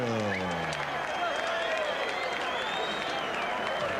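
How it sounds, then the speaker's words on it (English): Arena crowd at a heavyweight boxing bout applauding and cheering after a bloody fight, a dense, steady roar of clapping and voices that stays loud from start to finish, with a low voice briefly audible at the very start. "let's have a round of applause for a great display of courage"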